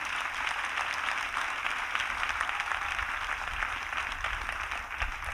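An audience at a national Bible camp in Côte d'Ivoire applauds in a steady, dense wash of clapping that holds at an even level from start to finish, with no voices standing out.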